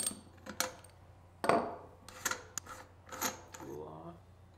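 A splined tool and wrench loosen a bicycle disc rotor lockring, giving a handful of sharp metallic clicks and clanks spaced irregularly, close up in a quiet room.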